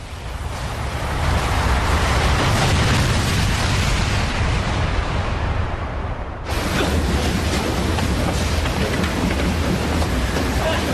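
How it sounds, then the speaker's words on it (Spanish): Dramatized explosion at the Chernobyl nuclear power plant heard as a loud, sustained roaring rumble with debris-like crackle, briefly dropping then resuming at full force. "Me ha parecido una explosión. Ha sido en la central."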